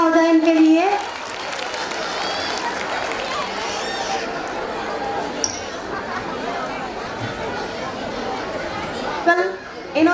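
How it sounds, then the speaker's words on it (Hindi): An audience at a school annual day claps and cheers, with steady loud applause and crowd chatter filling most of the stretch, while a voice talks over it at the start and end. "जोरदार तालियां हो जाए इनके लिए।"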